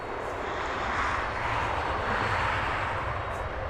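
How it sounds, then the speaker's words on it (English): An Aer Lingus Airbus A320neo arriving from Dublin at Heathrow, heard as a steady, fairly distant broadband jet roar that swells slightly mid-pass, with no talk over it. "We're looking at yet another Aer Lingus A320 Neo, again in from Dublin"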